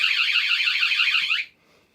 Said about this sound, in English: it gives that 2-3 second audible alarm